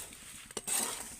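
Fuchka puris being stirred and dry-fried in a pan of salt with no oil: a soft, brief rattle and scrape of the puris against the pan, fairly quiet and with no talking.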